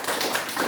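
Applause in a classroom, a short dense burst of clapping from a group, steady and close for under a second.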